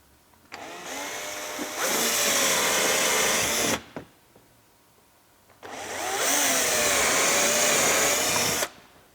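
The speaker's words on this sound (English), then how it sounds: "the drill's obviously kind of big, but we're going to make it work" A power drill whirs loudly in two sustained bursts of a few seconds each while installing front splitter endplates on a Toyota GR86, with a brief quiet pause between them.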